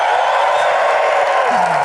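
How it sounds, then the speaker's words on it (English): A large audience at a 2014 leadership awards ceremony keynote cheers loudly as one sustained roar of voices and whoops, filling the whole moment without a break. "I'd like to start my evening out with a cheer as loud as you can"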